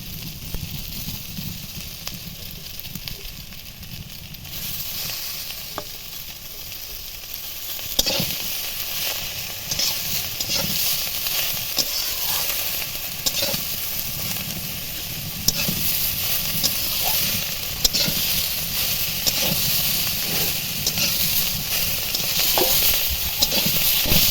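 Drumstick flowers hit a pan of boiled eggplant and potato and sizzle steadily, a loud continuous frying hiss with stirring scrapes and small pops, brightening after the first few seconds.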